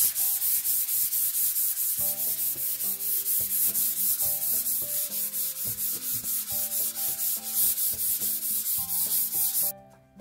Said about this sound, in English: I will take this very fine sanding pad, and I will slightly go over just to smooth everything a little bit